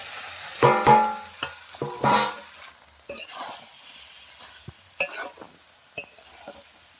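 Soaked taro root going into oil that has separated in a pan, a few sharp clatters and scrapes followed by scattered stirring knocks over a quiet background, close and intermittent.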